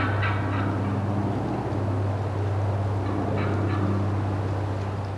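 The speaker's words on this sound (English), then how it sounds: "you can hear a perfect example of the Jake caulking there" A jake wild turkey cackles in a run of quick, rough calls, fairly faint and distant over a steady background hum outdoors.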